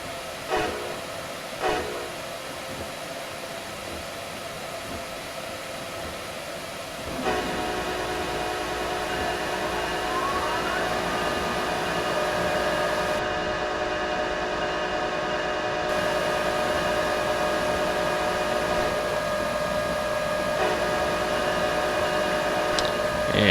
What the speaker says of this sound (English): Train restarting itself. Can hear in the background here.